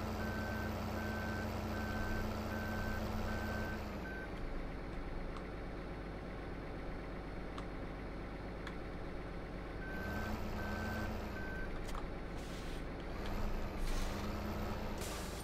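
A truck in Farming Simulator 15 backs a trailer in, its reversing alarm beeping in an even repeating pattern over a steady engine rumble, pausing midway then resuming, with air-brake hisses near the end.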